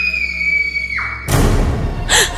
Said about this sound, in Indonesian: Aku terkejut ketika tiba-tiba saja ada suara jeritan yang terdengar nyaring.